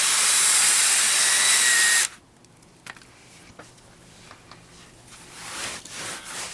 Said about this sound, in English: I'm using a drill brush, which is making quick and easy work of this job